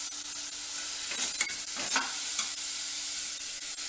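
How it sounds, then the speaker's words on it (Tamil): Carrot, beans, curry leaves and tomato sautéing in a pan, a steady soft sizzle with a few brief scraping stirs near the middle, no talking. "கேரட், பீன்ஸ், கருவேப்பிலை, காய் கொஞ்சம் வதங்கட்டும்"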